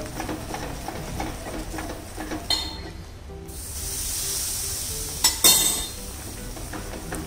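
A spoon scrapes and swishes steadily through a Mysore pak mixture in a pan as ghee is stirred in, with a continuous gritty hiss and a few louder metallic scrapes against the pan.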